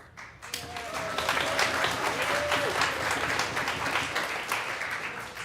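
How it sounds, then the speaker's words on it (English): Congregation applauding at a Shabbat evening service marking a rabbi's 25th ordination anniversary: dense, steady clapping from many hands that swells after a brief quiet start and keeps going, with a few voices calling out over it. "We did some applause."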